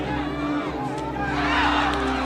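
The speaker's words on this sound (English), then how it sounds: "Drawing a roar from the crowd." A crowd at a boxing match roars in a sustained, loud wash of cheering and voices that swells slightly toward the end, with excited shouting mixed in.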